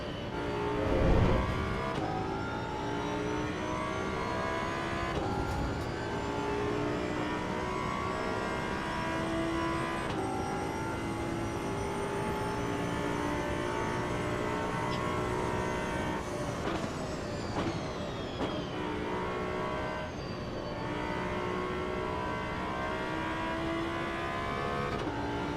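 Race car engine in the Assetto Corsa EVO racing game, a continuous high revving drone rising and falling through gear changes on a lap, steady and fairly close with no talk over it.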